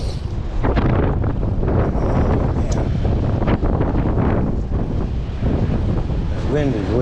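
Strong wind roars and buffets the microphone during a ride on a Yamaha Majesty 400 scooter on a windy day, loud and continuous, with brief muffled talk mixed in.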